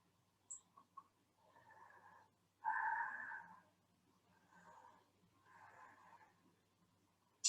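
Slow breathing during a yoga exercise, a few soft inhales and exhales with one stronger breath in the middle, quiet and close with no talking.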